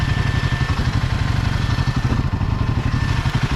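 A Royal Enfield Himalayan 450 motorcycle engine running on a forest trail, a close, steady, rhythmic thumping idle with mechanical clatter.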